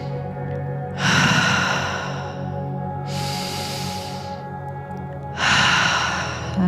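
Forceful, continual breathwork breaths come close and loud, with long hissing airy inhales and exhales repeating in slow cycles, no talking over them.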